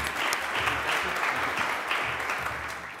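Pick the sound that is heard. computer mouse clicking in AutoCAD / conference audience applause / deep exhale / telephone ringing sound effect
conference audience applause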